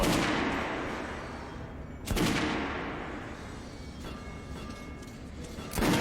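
Gunfire from weapons in the video game Metro Redux: a few loud, sharp shots, one near 2 seconds and another near the end, each followed by a decaying boom over a steady rumbling background.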